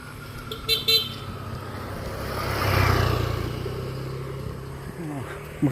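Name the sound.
motorcycle horn honking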